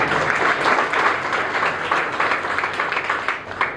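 An audience at a retirement felicitation for a post office official breaks into sustained clapping, a dense, even wash of applause that holds steady for several seconds.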